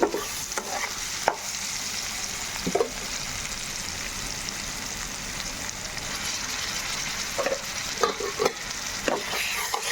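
Fresh ginger garlic paste is stirred into a frying methi aloo potato curry: a continuous soft sizzle with occasional scraping knocks of the spoon against the pan, heard close and without speech.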